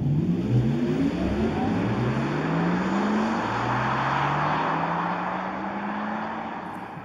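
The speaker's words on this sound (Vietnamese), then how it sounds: "chúng tôi mang đến tùy chọn âm thanh động cơ điện thể thao, một chất giọng không thể nhầm lẫn và đầy thú vị từ một chiếc Porsche thực thụ" Porsche Taycan electric sports car with its optional sport sound, a synthetic engine-like tone rising in several accelerating sweeps, loud and near, then fading slightly as it pulls away.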